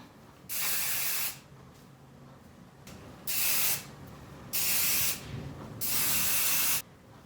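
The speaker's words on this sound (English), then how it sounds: "So I'm just going to spray a little bit of this in just to add some more texture." Four short bursts of aerosol hair texture spray hiss in sequence, each about a second long, close and clear with quiet pauses between.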